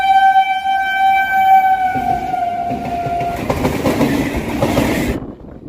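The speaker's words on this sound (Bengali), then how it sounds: "আরও একটা ট্রেন আসছে দেখুন" A train arrives at Matla railway station, set in an open field, with a loud sustained horn at first, then a rolling rumble and clatter of wagons that cuts off abruptly near the end.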